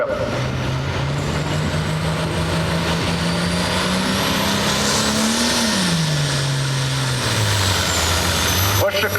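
A John Deere pulling tractor roars down a tractor-pull track, its loud engine drone rising in pitch as it revs hard, then dropping away, with crowd and announcer noise mixed underneath throughout.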